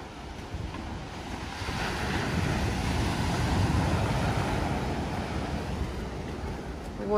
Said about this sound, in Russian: Вот такой вот океан.